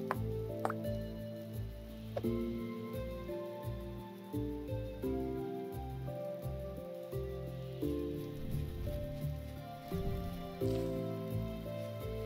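Rain patters and drips steadily in the video game Vintage Story, soft ticking drops layered over tonal game music throughout, with no talking.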